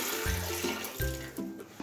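Water poured from a glass into a pot while making chicken shami kabab, a steady splashing pour with a couple of brief surges, close by and without voices.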